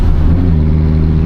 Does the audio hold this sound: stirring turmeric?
no